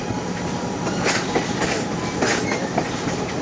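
The Conway Scenic Railroad train rolls through Crawford Notch, New Hampshire, with a close, continuous rumble of wheels on rails broken by rhythmic clicks and clacks.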